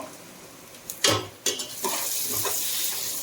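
Onions with green chillies and chilli powder sautéing in a pan for chicken biryani, a steady sizzle broken by several loud scraping stirs of a spoon against the pan.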